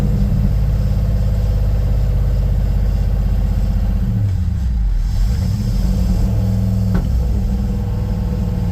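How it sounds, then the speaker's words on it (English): A 1955 Ford gasser engine runs loud and close, its rumbling idle swelling into revs and dropping back, running a little rich on a cold 40-degree day. "Backfires a little bit on the downshift."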